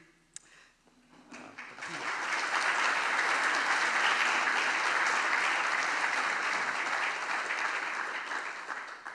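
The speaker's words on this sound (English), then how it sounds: "please clap for Prith" Audience applause at a JuliaCon Global 2025 keynote on digital twins, rising after a quiet first two seconds into steady, dense clapping that holds evenly to the end.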